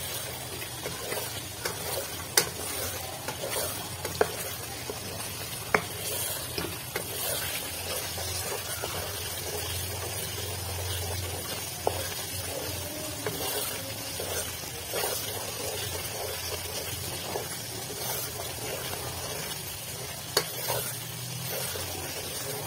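Chicken karahi, Lahori restaurant style, sizzles and fries in a pan with steady hiss and frequent scraping stirs and clicks, moderately quiet and unbroken, no talking.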